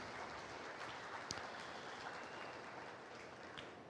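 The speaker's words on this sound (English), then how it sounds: "give yourselves and your state a great round of applause for that" Steady applause from a crowd at a state fair junior breeding heifer show, a dense unbroken patter of clapping held at an even level for the full few seconds, with no voices rising above it.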